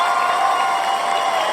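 A canned applause track plays as a sound effect, a steady, even wash of clapping and light cheering with no breaks for its short length.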